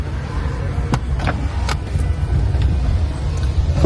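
A car passes along a road, its engine and tyre noise building steadily into a loud, close rush, with a few sharp clicks and rattles scattered through it.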